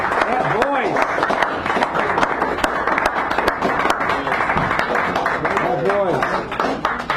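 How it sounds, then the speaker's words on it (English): An audience at a poetry reading in the Sacred Grounds Cafe in San Francisco breaks into loud, continuous applause, with whoops and voices rising over the clapping. "Oh, great clap, ladies and gentlemen."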